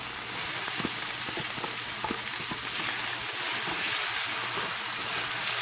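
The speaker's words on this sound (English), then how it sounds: "the skillet is hot. Let's go on and get these onions going. And the green peppers." Onions and green peppers fry in a hot greased skillet, giving a steady, close sizzle that carries on without a break and has no talking over it.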